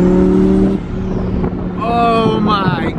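Boosted Lamborghini Huracan engine revving loudly nearby, rising and falling in pitch through a few quick throttle blips with a growling exhaust.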